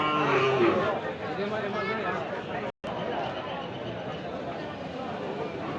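A calf moos amid a busy cattle market crowd in Madhabpur, Habiganj, with constant chatter and babble nearly drowning the animal calls.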